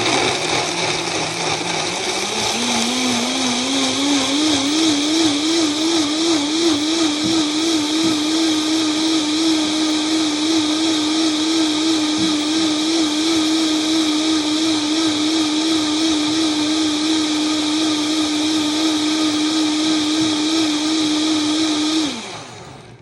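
A blender whirs through vegan queso ingredients, its motor climbing quickly to a loud, steady high whine with slight wavering, running close and continuously for about twenty seconds before cutting off abruptly.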